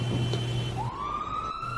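An ambulance siren rings out in a short burst, a steady wail that cuts off and then sweeps upward into a rising tone, fairly close and alone without any voices.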